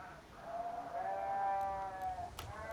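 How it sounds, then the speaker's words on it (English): A sheep bleats once in a long, wavering cry over quiet outdoor ambience, an ambient sound from the video game Arma Reforger. "Distant sheep if I was out in the field."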